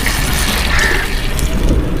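Water poured into a pot of ground fish curry (Hogenakkal-style kulambu), a steady close splashing pour lasting about two seconds with no talk.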